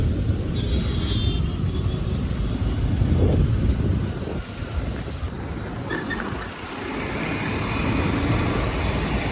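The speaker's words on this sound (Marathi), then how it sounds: "हे बघा किती ट्रॅफिक." Busy city road traffic heard from under a bridge on a ride between Vikhroli and Dombivli, a loud continuous rumble of passing vehicles mixed with wind buffeting on the microphone.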